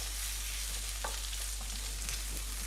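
Colored peppers, carrots, grated ginger and garlic stir-frying in a pan, a steady soft sizzle with faint scrapes of stirring throughout, no voices.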